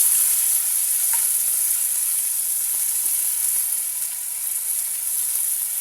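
Spices frying in a pan for a banana flower curry, a steady bright hiss of sizzling oil with faint stirring ticks, close and alone.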